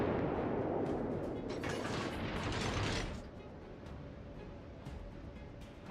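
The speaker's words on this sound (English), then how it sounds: "Now we're going to engage with our guns." Naval guns firing in World of Warships from the destroyer Storozhevoi, a dense, rumbling barrage of booming salvos that drops to a quieter hum midway, with a sharp report at the very end.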